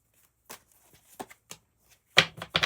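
Tarot and oracle cards are shuffled by hand in quick papery riffles and taps, isolated bursts early on, then a louder cluster of brisk shuffles near the end.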